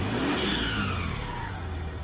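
A car engine, still trailing a bit of smoke after being tinkered with, revs steadily at mid pitch with a constant droning tone, heard close and alone with no talk.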